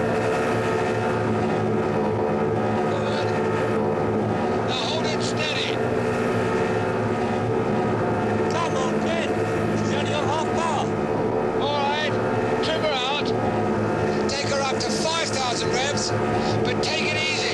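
A motorboat engine runs steadily at high revs, a continuous droning hum under dramatic dialogue, with people talking over it throughout.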